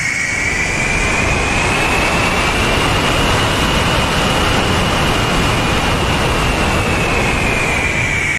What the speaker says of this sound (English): new intake sounds